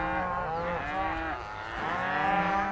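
Cattle moo in long, drawn-out calls on a working cattle ranch in open Montana country. Several overlapping bellows come from nearby animals, with no one talking.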